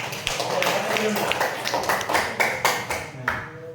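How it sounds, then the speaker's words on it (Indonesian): Elementary schoolchildren in a fifth-grade classroom clap for a student group, a short burst of clapping with a few distinct louder claps standing out as it winds down. "Tepuk tangan untuk kelompok 3"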